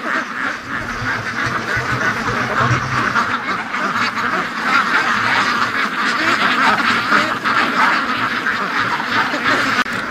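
Ducks on a free-range farm quack steadily in a restless flock before sunrise, a continuous close chorus of overlapping calls with no pauses.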